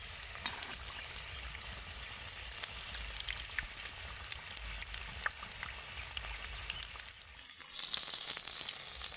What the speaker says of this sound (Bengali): পুর ভরা জামার ডিজাইনের টিফিনটা আমি ভালো করে ভেজে নিয়েছি